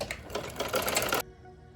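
A sewing machine runs a quick burst of stitching along the very edge of a child's summer jhabla, loud and close, then stops abruptly as a faint hum lingers.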